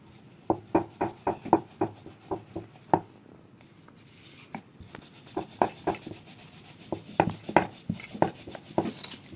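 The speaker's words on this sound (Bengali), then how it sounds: "এবার খুব বড় করে বেলে নেব।" A rolling pin rolls out patty dough for a potato and carrot veg patties recipe, making quick rhythmic rubbing strokes in bursts. The strokes pause briefly midway, then start again.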